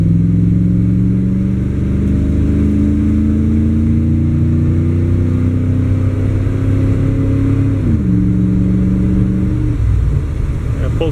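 An old car with a 305 engine accelerating. It gives a loud, steady engine drone with rising pitch, a brief dip around a gear change, then climbs again.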